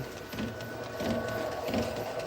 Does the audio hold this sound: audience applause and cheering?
no